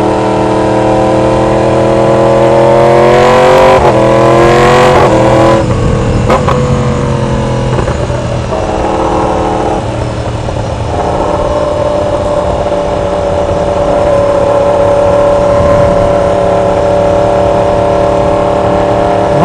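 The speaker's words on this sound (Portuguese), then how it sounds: "dando um rolezinho comigo aqui na moto do Christian, meu irmão." A motorcycle engine runs loudly and close while riding near Marietta, revving through several rising gear pulls before settling into a steadier drone with wind noise.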